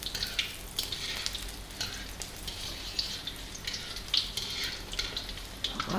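Chicken pieces for Indian Chinese chili chicken frying in hot oil in a wok, a steady crackling sizzle with bursts of spattering, fairly quiet and close, no talk.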